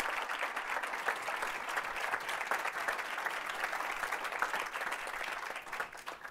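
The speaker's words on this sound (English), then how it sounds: "let's give a great round of applause for Christy and the work she's doing." Applause from a business school lecture audience fills the room as a soft, even wash of many clapping hands, sustained throughout and slightly distant.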